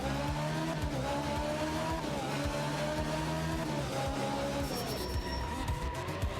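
Rally car in a video game drifting through hairpin turns on a mountain stage, its engine droning steadily with shifting pitch and a few tire scrubs, continuous and fairly close throughout.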